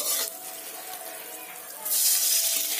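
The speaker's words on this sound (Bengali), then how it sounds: "এতে আমি সামান্য জল দিয়ে দেব" A little water is poured into crumbled paneer mixed with salt and sugar for paneer paratha, making a brief, close splashing rush that swells louder near the end.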